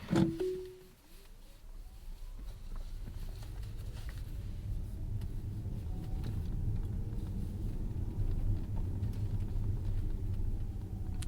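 A Tesla driving itself on FSD Beta gives a steady, low road rumble with faint tire and motor noise from inside the cabin, building gently and continuing without talk.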